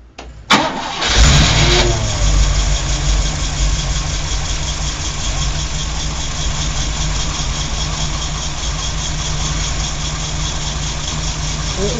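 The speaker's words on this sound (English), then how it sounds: "And start the engine." A car engine cranks briefly and catches, then settles into a loud, steady idle heard close up with no voices.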